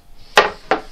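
A hammer drives nails into a wooden nest box for trapping Asian hornet queens, two sharp, close knocks about a third of a second apart.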